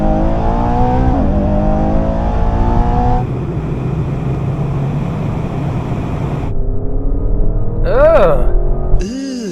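SUVs, an Aston Martin among them, pull away hard from a drag race start, heard as a loud, sustained engine roar climbing through the gears from inside the cabin, with someone speaking over it.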